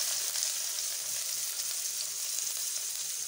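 Chopped large onion sizzling in hot oil in a wide pan for an egg fried rice, a steady dense crackling hiss that stays close and even throughout with no voices.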